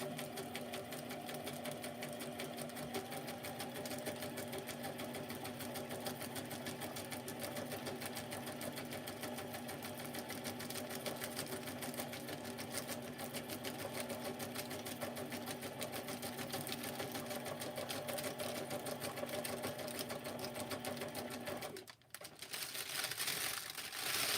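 A sewing machine runs continuously at a steady hum and rapid stitching rhythm, close and quiet, then stops briefly near the end before starting again.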